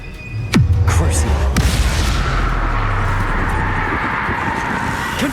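A Confringo blasting spell explodes in the video game Hogwarts Legacy with a sharp, heavy boom near the start, followed by a rumbling combat din and a second smaller impact.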